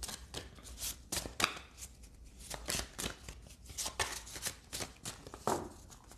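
Tarot and oracle cards handled and shuffled for a twin-flame reading, a busy run of riffling and slapping card noises, close and continuous with no talking.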